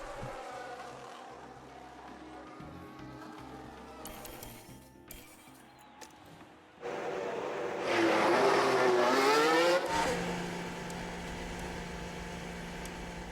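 Race cars in F1 Manager 2022 start quiet and distant under game sounds, then an engine rises loudly with a revving whine as a car passes close by before fading.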